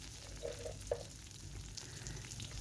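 Onion, ginger, green chillies and garlic frying in a pan make a faint, steady sizzle with a couple of soft clinks early on and no talking.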